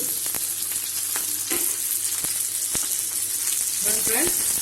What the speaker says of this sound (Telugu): ఇప్పుడు మనం ఇవన్నీ కూడా లైట్గా ఈ ఆయిల్లో ఫ్రై అవ్వాలి